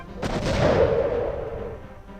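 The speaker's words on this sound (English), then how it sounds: "Oh, there we go. Explosions!" A deep, booming video game explosion from Superman 64 erupts and rolls out into a decaying rumble, loud and close, with no voices.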